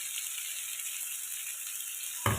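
Boiled ingredients sautéing in a pan, a steady close sizzle holding evenly throughout, with a brief knock near the end.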